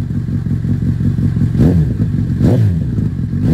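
A Honda CBR 1000 motorcycle engine rumbles loudly at idle, then gets two quick sharp throttle blips with rising and falling pitch.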